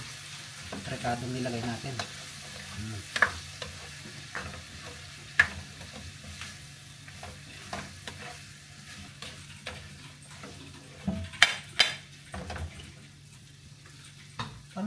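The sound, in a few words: stirring sisig ingredients in a sizzling pan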